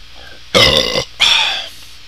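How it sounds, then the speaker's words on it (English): Two loud, close belches in quick succession, the first longer and harsher, the second slightly softer and trailing off. "That was some belch."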